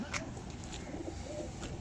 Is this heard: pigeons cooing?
yes